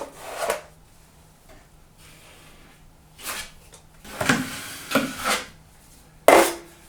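Joint compound being pressed into a drywall gap while patching a removed interior door opening, heard as several short, separated scraping strokes of a knife against the wall.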